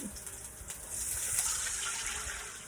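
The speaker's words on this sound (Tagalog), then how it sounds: "Tapos lalagyan ko siya ng tubig." Water poured into a cooking pan for seafood pancit canton, a soft continuous splashing gush that swells and holds, fairly quiet and close, with no talking.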